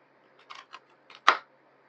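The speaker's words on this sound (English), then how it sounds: "So I'm going to go ahead and cut into that." Freeze-dried Halloween candy cut with a blade: a few light crisp crunches followed by one sharper, louder crack as it breaks, close and otherwise quiet.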